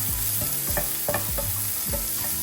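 Grated carrot and vegetables for a masala dosa filling frying in a pan, stirred with a utensil in quick rhythmic scrapes and taps over a soft steady sizzle, close and alone.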